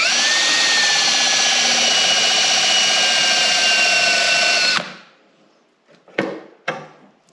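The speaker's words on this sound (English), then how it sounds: "and then we'll drill the head of this out." A power drill bores out the head of a rivet on a quick-adjust suspension part, a steady high whine for nearly five seconds that cuts off abruptly, followed by a few short clanks and scrapes.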